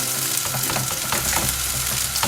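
Gluten-free root vegetable patties fry in a pan with a loud, steady close-up sizzle and crackle, a continuous oily hiss with small spitting bursts.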